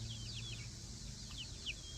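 Soft chicken clucks and calls come through in short bursts against a steady low background hum, fairly distant and mixed with faint bird chirps.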